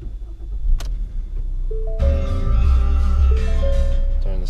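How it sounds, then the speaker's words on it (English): A 2017 Ford Escape S base model starts up with a brief cranking whir, then the engine catches and settles into a steady, loud idle, with chimes and a faint click before ignition. "I'm gonna start the car up here."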